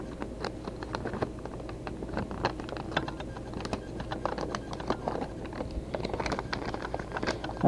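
Paper packaging from a Sailor Yonaga fountain ink box crinkles and rustles close up, a steady stream of small crackles and taps running throughout without any talking.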